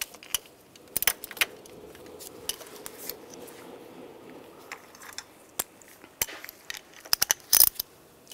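Scattered metallic clinks and light tool rattles while bolts are snugged down on the engine vacuum pump of a 1999-2005 Volkswagen Jetta 1.9 TDI; soft, irregular taps and jingles close by over quiet background, no speech.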